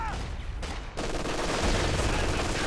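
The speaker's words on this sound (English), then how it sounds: "the incendiary rounds shredding the fighting position, but nearly getting the decrew on the machine gun" Machine gun firing incendiary rounds in Company of Heroes 2, a dense burst of rapid gunfire with other battle noise, steady and loud throughout, with some voice-like sound near the start.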